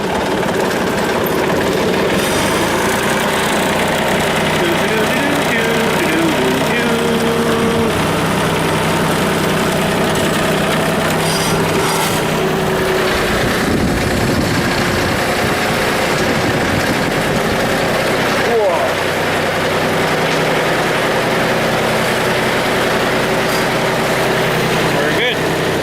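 A tractor engine idles steadily and loudly throughout, a low continuous rumble with vibration, while a person talks over it at times.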